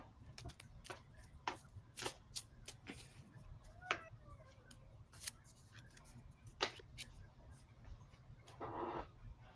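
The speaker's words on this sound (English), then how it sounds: "I shuffled my cards and they went facing inward to each other instead of shuffling." Tarot cards are shuffled by hand in a run of quiet, close riffling and slapping bursts, irregularly spaced, with soft handling sounds between them.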